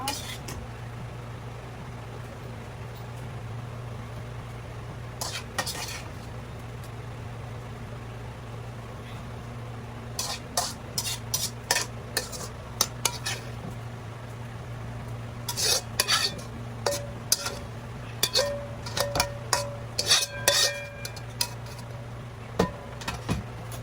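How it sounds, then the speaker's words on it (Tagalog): Shredded cabbage is stirred in a pan for a cabbage pie: scattered scrapes and clinks of a utensil against the pan come in bursts over a steady low kitchen hum, with a voice speaking now and then. "panghaluin natin"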